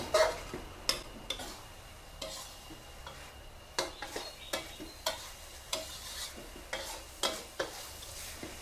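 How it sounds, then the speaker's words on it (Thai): Glass noodles soaked in sauce are stir-fried in a pan, a quiet low sizzle broken by regular clinks and scrapes of a spatula against the metal, each stroke distinct and close. "ผัดจนให้วุ้นเส้นนะคะมีความนิ่ม"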